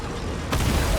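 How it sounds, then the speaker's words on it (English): A homing landmine explodes in Death Stranding 2: a sudden, loud, broadband blast halfway through, following a quieter stretch and leaving a dense, rumbling roar. "It exploded!"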